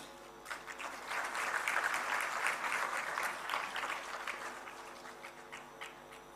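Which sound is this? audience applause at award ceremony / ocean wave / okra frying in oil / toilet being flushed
audience applause at award ceremony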